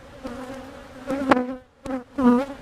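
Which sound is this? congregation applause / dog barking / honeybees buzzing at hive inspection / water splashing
honeybees buzzing at hive inspection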